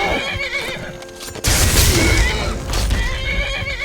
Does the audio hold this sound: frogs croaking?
no